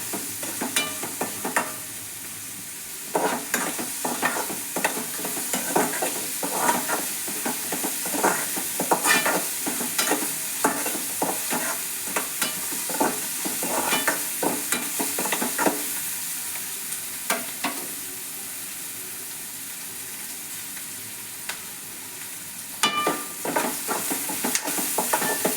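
Cumin, garlic and pepper sauté in hot oil in a pan, sizzling steadily while a spoon scrapes and stirs in repeated bursts, close and fairly loud with no talking.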